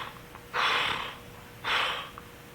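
A voice imitates a monkey snoring while reading a children's story aloud, two loud, breathy rasping snores about a second apart, each swelling and fading.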